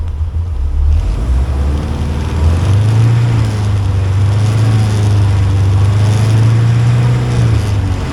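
A 1980 Triumph TR7 engine idles steadily and loudly up close, a low continuous rumble with a slight rise in pitch partway through, roughened by wind buffeting.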